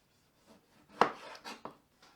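A knife slicing halved tomatoes on a board, a few sharp close cuts with one strong chop followed by two lighter ones, against near silence.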